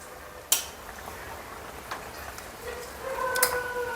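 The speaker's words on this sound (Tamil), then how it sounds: "இப்போ வந்து எல்லாத்தையும் போட்டு மிக்ஸ் பண்ணிடலாம்." Rice and chicken pieces being stirred together in a pot for chicken biryani, with a sharp metallic clink of a spoon against the pot early on and soft scraping and tapping as the mixing continues, quiet and close.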